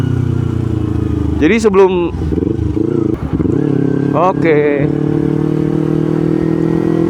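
A carbureted Kawasaki Ninja 250 ridden on a morning road trip, its engine a steady near drone with two rising revs as it accelerates, and a rider talking briefly over it.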